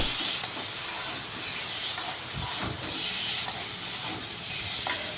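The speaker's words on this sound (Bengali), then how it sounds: "এবার এর মধ্যে আমি গরম মশলাটা দিয়ে আরেকবার ভালো করে কষে" Prawns and potatoes frying with a spice mix and garam masala, a steady close sizzle with occasional stirring scrapes running throughout, no talking.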